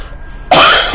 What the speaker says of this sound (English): I am coughing and I can't get my voice back.